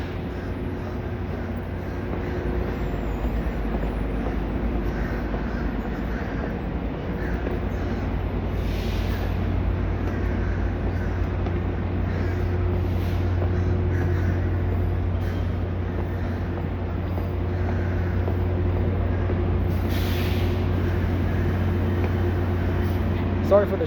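A Tri-Rail commuter train idling at the Miami International Airport station, a steady low engine drone and hum with a couple of faint higher hisses, continuous and fairly close.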